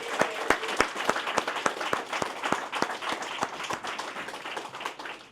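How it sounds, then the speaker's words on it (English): An audience at an evening event claps for six speakers, sharp individual claps standing out early before the applause thins into a lighter, uneven patter. "I want to give another round of applause to our 6 wonderful speakers tonight"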